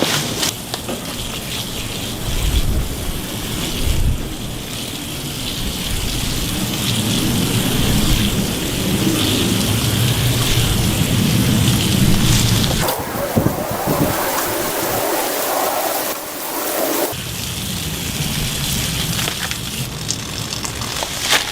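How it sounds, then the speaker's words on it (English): Garden hose spray hitting the coils of a window air conditioner, a loud continuous hissing rush of water with splashing, shifting in intensity and briefly cutting out partway through. "it's best if you have a sprayer on the end of a garden hose"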